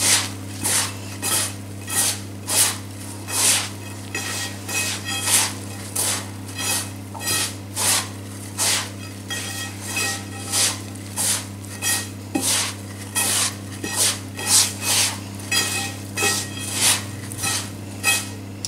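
A spoon scrapes semolina around a bowl for a semolina-almond cake in a steady rhythmic series of rasping strokes, close and clear, roughly two each second.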